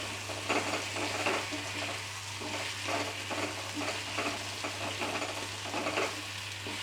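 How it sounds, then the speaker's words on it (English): Masala squash fries in a pan over a medium flame, a continuous close sizzle with rhythmic scraping and stirring strokes, steady and without talk. "I am just frying this."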